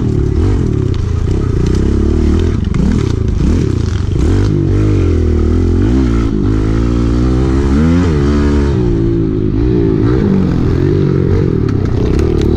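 A pit bike rides a fresh, barely worn dirt trail, its small engine droning loud and continuous. Revs rise and fall as it moves, with scraping and clattering from the ground throughout.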